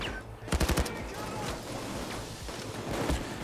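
Gunfire in the heist shooter Payday 2: a quick burst of about five loud shots close together, followed by scattered fainter impacts and action noise.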